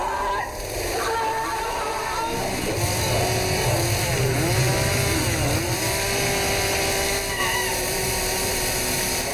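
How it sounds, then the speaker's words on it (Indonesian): A chainsaw roars through a victim in the 2009 Indonesian horror film Macabre (Rumah Dara): a steady, loud, close engine drone with rising and falling revving pitch, running without a break under thick, chaotic noise. "Aji pun tewas terbelah dua oleh gergaji mesin"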